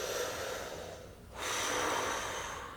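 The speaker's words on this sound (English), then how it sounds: "Breathing." Slow, deep breaths during a morning hand and arm stretching exercise: a long breathy exhale, a short pause, then a steady inhale, close and clear with no talking.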